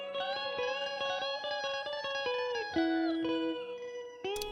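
Electric guitar played through an Old Blood Noise Excess V2 effects pedal, a run of picked notes and held chords with warped pitch and a fifths-style harmony, plus a short burst of noise at the end; loud, close, no voices.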